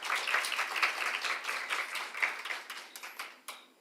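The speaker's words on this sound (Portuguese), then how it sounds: "Mais uma salva de palmas" Brief applause from a small audience at a Kangaroo Mother Care awareness event, with scattered individual claps standing out as it thins toward the end.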